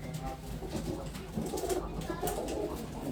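Pigeons coo softly in a small breeder loft, low murmuring calls repeating under faint background rustle and distant noise.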